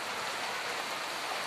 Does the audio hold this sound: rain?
yes